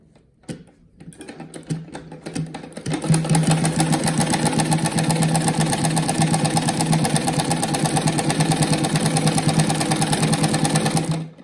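A sewing machine stitches along a seam of a round patchwork rug, starting after a brief pause and then running steadily and loudly at close range with a fast, even mechanical chatter.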